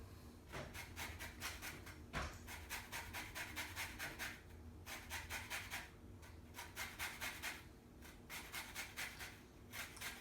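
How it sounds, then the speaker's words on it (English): A lemon is zested for a cocktail, quick rhythmic rasping strokes scraping close up in bursts with short pauses, faint and without talking. "Next, I'm going to add in some zest from this lemon."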